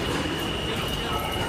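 New York City subway train at rush hour: a loud, steady rumble and roar of rolling cars with a faint high squeal, filling the whole clip.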